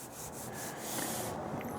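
Sanding over Bondo body filler on a 1929 Chrysler body gives a coarser, grinding rasp in a few brisk strokes that then smooth into continuous rubbing, close up and fairly quiet.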